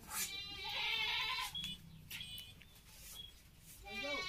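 Goats bleat in wavering, nasal calls close by, one long cry at the start and another near the end, with a person's voice and rustling between them.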